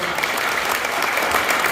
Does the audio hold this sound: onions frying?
no